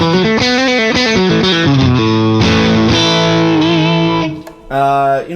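Distorted electric guitar through a Sleep Champion Horse Cult pedal plays a loud run of sustained chords and sliding notes, dipping briefly before one last bright chord rings out.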